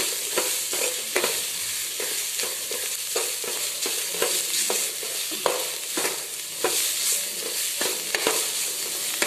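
Tempering sizzles and crackles steadily in a hot pan for a buttermilk dish, with frequent light clicks of stirring through the continuous frying noise.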